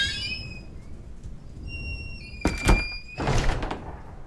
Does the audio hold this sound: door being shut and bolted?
yes